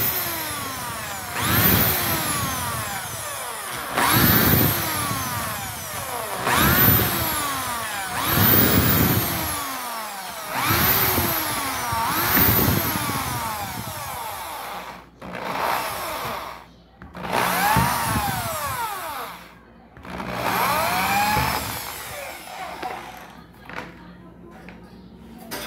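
Power drill boring a row of closely spaced holes in a door for a lock, with repeated loud bursts of whirring that rise and fall, separated by short pauses, up close.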